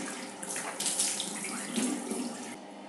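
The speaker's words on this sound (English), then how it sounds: "So I'll rinse it off now with lukewarm water." Lukewarm tap water runs steadily into a sink while a dried tomato face mask is rinsed off, a continuous splashing stream with brief louder surges, close and alone with no talking.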